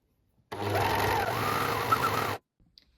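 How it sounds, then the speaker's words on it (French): A serger overlocks the side seams of an elastic-waist skirt, running in one steady, close mechanical whir for about two seconds before stopping abruptly, with no talk. "Ensuite, vous allez surjeter les côtés comme pour le volant."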